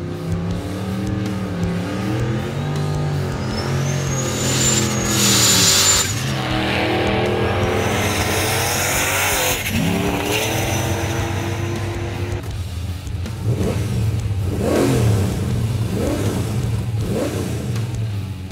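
A 1968 HK GTS Monaro with a 406 Chev V8 revs loudly and continuously, the engine rising and falling through repeated blips with a throaty, rumbling exhaust close by.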